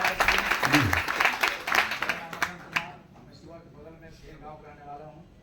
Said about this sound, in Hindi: ताली बजा दें सर के लिए